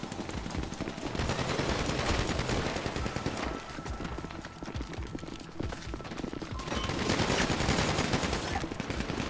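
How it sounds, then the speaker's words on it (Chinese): Rapid, continuous gunfire from an armor-piercing pistol in GTA Online on PC, dense and loud across the whole stretch with a brief dip in the middle, no speech. "穿甲手枪嘛，射速 系咪起手咁快啊？"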